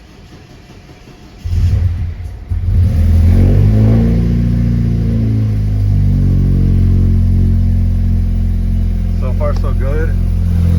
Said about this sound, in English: Pretty sure that rattle is a wastegate